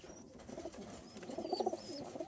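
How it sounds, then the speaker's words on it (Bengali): A male pigeon coos softly, a short run of low, throaty burbling notes that swell near the end of the brief, quiet moment. "খুব সুন্দর একটা কবুতর।"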